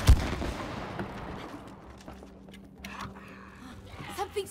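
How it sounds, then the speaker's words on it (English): Gunfire in the co-op video game It Takes Two, a sharp boom at the start followed by a decaying tail and scattered smaller game impacts, with people talking throughout. "Now shoot this."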